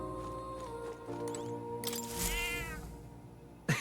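A cat meows once in the video game Metaphor: ReFantazio, a soft drawn-out call that rises and falls over quiet background game music.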